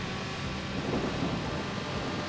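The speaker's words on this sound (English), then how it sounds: "Ooh, we got thunder." Thunder rumbles as steady, loud low noise with rain-like hiss in a Supercar Street Challenge street race, continuous through the moment with no talk.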